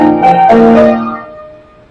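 A piano plays a short phrase from the chorus of a song, two struck chords close together that ring out and decay over the next second and a half.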